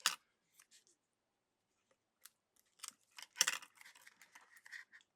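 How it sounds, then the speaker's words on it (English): Scissors snip through pop dot 3D foam adhesive for a papercraft calendar page, a scattered run of quiet, crisp cuts and crunches with short pauses between them, close up and alone. "I'm going to use my scissors this time."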